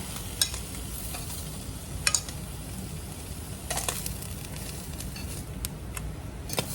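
Meat browns in a pan on a home stove with a quiet, steady sizzle, broken by occasional sharp scrapes and clicks of a utensil stirring.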